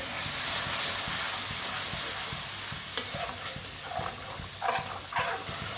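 Spices cooking in a pan over raised heat, stirred steadily with a steady sizzle and hiss, a few louder scrapes of the spoon toward the end, close up with no voices.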